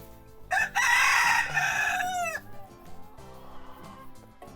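Backyard chickens crow loudly in a long, close call that rises and falls, followed by softer clucking and a quieter second crow, with no talking.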